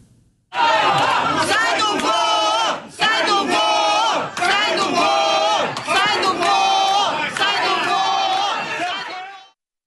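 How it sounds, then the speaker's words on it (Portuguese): A crowd booing and shouting at a government minister inside an airport, loud massed chanting and yelling in surging waves, nearly continuous with brief dips between bursts. "é possível ouvir as pessoas gritando: sai do voo para Barroso e vaiando o ministro."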